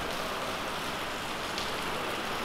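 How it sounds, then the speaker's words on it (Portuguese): Heavy rain pours steadily outdoors, a dense, constant hiss of falling water with no breaks and no voices over it. "olha só, mano, o tanto que tá chovendo aqui"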